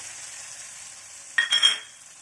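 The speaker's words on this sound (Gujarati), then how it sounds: "હવે કન્ટિન્યુ હલાવતા રહેવાનું છે" Sweet vermicelli simmering with milk and sugar in a pan gives a steady soft sizzle, broken by a short burst of stirring with a few clinks of the spoon against the pan.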